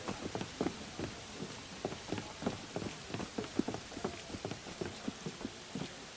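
Rain in Assassin's Creed, set in 1794 Paris, falls steadily alongside a quick run of sharp clopping or footstep-like taps, moderately loud and close, with no talk.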